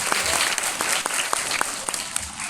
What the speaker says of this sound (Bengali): একটা হাততালি হবে বন্ধুর জন্য।